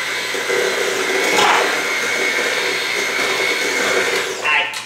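An electric mixer runs briefly through cookie dough with vanilla extract for gluten-free chocolate chip cookies, giving a steady close whirring hum for a few seconds before it cuts off.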